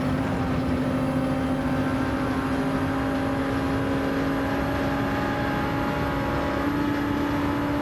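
A Toyota Supra engine in Gran Turismo 7 gives a steady, continuous drone with a sustained tone at a constant pitch throughout, with no voices heard.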